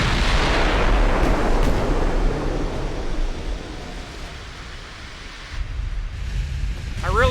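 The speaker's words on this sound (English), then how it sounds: "Now we just got hit on the right side by the battle cruiser." Heavy shells striking a warship in Ultimate Admiral Dreadnoughts, a loud booming impact that rolls out into a long roaring wash of spray and rumble, swelling again near the end.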